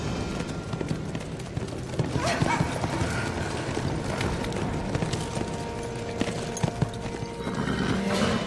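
Horses in a Seljuk-era historical drama scene, loud clip-clop of hooves moving at pace with repeated neighing and whinnying, close and busy throughout, with faint clattering mixed in.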